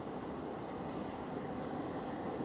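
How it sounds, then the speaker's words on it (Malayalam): A train passes near Perumon as a steady, broad rumbling roar that holds at an even level throughout, with no voices over it. "ട്രെയിൻ പോന്നു ഗൈസ്"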